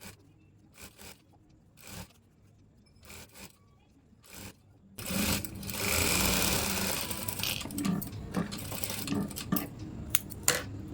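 A sewing machine stitches silver double piping onto a blouse. A few scattered clicks and handling taps come first, then the motor hums in a sustained close run with small bumps of fabric handling.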